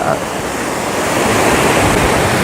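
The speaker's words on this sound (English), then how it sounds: "the waves make it a little more interesting to have fun in the water" Choppy ocean water with waves breaking and churning in a continuous, loud wash, with gusts of wind buffeting the microphone throughout.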